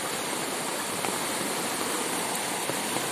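Dogura Creek near Port Moresby in flood, rushing water roaring as a dense, steady broadband wash with no pauses, loud and close.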